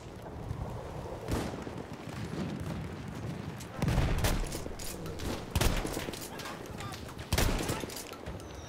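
Shotgun fire in the first-world-war shooter Battlefield 1 on the coastal Zeebrugge map, several loud broadband blasts at irregular intervals over a steady windy, rumbling battlefield background.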